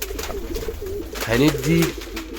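Domestic pigeons in a breeding loft give low, throaty coos, with a couple of louder rolling calls near the end over a steady background hum.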